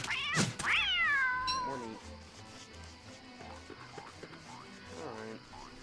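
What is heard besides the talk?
catcoon meowing in the video game Don't Starve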